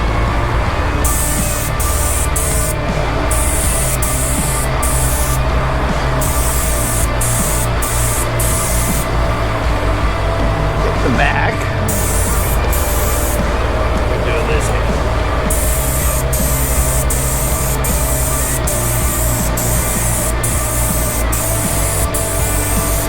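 Clear coat sprays from an aerosol can onto an Ibanez RG guitar body, a loud, close, continuous hiss broken by short regular pauses between passes.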